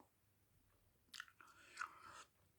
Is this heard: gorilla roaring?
no